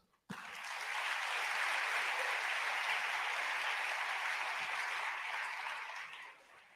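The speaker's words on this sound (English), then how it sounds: "A bigger round of applause, please, as they take their seats." Sustained applause from a large audience at the African Climate Summit, rising quickly to a full steady roar of clapping and fading near the end.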